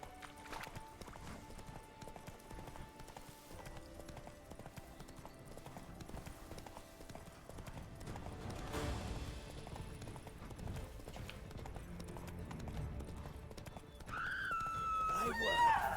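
Roach, the horse in The Witcher 3, gallops with a steady, rapid clip-clop of hooves that grows louder toward the end and brings a brief whinny, with some talk over it.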